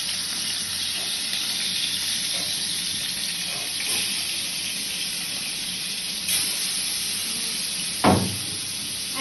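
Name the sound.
spices frying in hot oil in a pan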